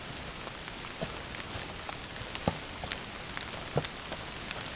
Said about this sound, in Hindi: बारिश हो रही है और भाई बारिश में चल रहे हैं